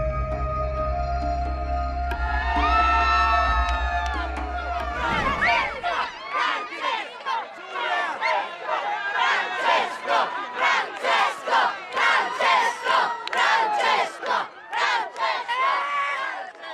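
A large crowd in St. Peter's Square, Rome: a sustained tonal swell gives way to loud, rhythmic collective chanting and cheering, pulsing in steady repeated waves.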